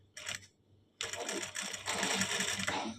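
A sewing machine stitches a blouse neckline, running in a short buzzing burst, then pausing and starting again in a longer continuous whir, close by.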